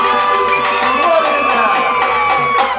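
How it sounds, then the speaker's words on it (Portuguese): Crowd at a summer festival in Amsterdam cheering and whooping for a girl named Lorena, loud and continuous with bright shouts layered over the clamor and no clear break. "Salva de palmas pra Lorena."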